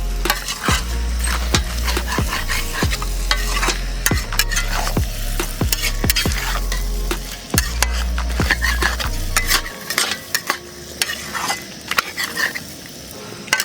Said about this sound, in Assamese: এতিয়া মাহৰ দালিখিনিৰ লগত মাংসখিনি বঢ়িয়াকৈ ভাজিব লাগিব